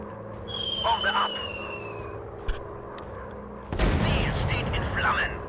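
Bombs dropping on enemy tanks in the WW1 fighter plane VR game Warplanes WW1 Fighters, a low booming blast arriving after a stretch of droning engine tones and faint talk, followed by sustained rumbling noise.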